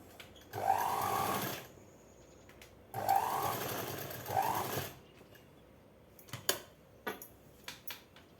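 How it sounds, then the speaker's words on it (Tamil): Sewing machine stitching two layers of cloth for a night dress, running in two sustained bursts about a second or two each, followed by a few sharp clicks and handling knocks. "2 துணியிலையுமே இதே மாதிரி போட்டு ஏகம் அடித்து ஒரு படிமான தையல் போட்டுக்கிறோம்"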